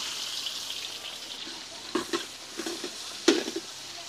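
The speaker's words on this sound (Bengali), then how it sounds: "এবারে দিয়ে দিব কুচানো পেঁয়াজ।" Chopped onion fries in hot oil with whole spices for a Bengali chicken dish, a soft, steady sizzle with a few sharper clicks and scrapes as it is stirred, close but fairly quiet.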